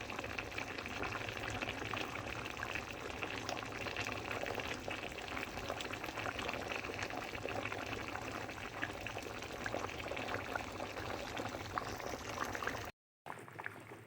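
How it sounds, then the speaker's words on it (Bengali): A spicy meat curry bubbles steadily in a pot on the stove, a continuous close gurgle of boiling liquid that runs almost the whole time and then cuts off briefly near the end, with no voices. "তো এখানে দেখো তরকারি ফুটছে, আর জলও দিয়ে দিয়েছে"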